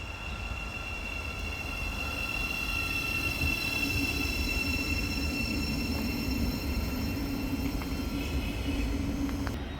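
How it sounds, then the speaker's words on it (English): An LNER class 801 train passes through Hatfield station on the East Coast Main Line, giving a steady, close rumble of wheels on rails with a sustained high electric whine for the whole stretch. "now coming through we have a LNER Zoomer class 801 service"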